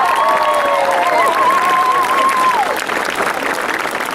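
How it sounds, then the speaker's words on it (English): Family members in the audience at a US Marine Corps graduation family day applaud loudly and continuously, with crowd noise and a long, wavering whistle rising above the clapping. "So please join me in a round of applause to show our appreciation there."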